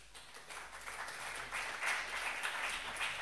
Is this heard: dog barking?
no